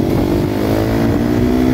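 A motorcycle passes another bike on the right on a road, its engine droning loud and steady the whole time with a slight rise in revs.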